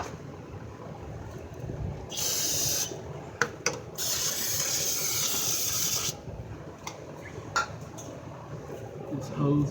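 Brake cleaner hisses from an aerosol can onto the 3.0-litre engine of a Lexus ES300 in two loud bursts, about a second and then two seconds long, with light tool clinks and handling noise between them.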